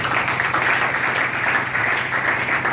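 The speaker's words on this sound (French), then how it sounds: "Est-ce que tu peux acclamer le Seigneur?" Church congregation applauding the Lord, loud sustained clapping from a crowd filling the room evenly without pause, with faint voices mixed in.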